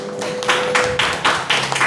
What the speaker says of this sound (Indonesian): Tepuk tangan dulu monggo,